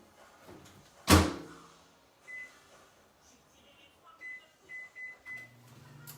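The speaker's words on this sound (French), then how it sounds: "Je vais les faire cuire 12 minutes au micro-ondes." A microwave oven is used to cook pasta. A loud door slam is followed by a series of high electronic beeps, then a low hum as it starts.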